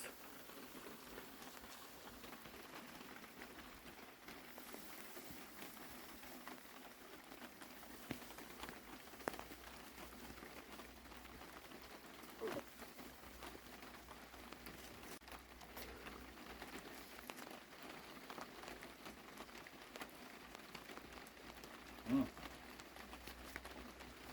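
Steady rain patters onto surfaces on a wet day at an outdoor barbecue in Germany, a continuous soft hiss with scattered drip taps throughout.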